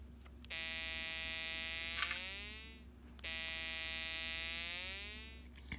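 Electronic tone from a Snap Circuits kit with an adjustable resistor: two sustained buzzy beeps, each holding steady and then sliding in pitch, over a faint constant hum, with no talking.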